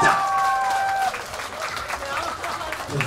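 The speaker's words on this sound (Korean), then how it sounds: "여러분 박수 한번 주세요" Applause from the audience at a live song-and-dance stage show, crowd clapping under a held sung or electronic tone at first, then continuing more softly.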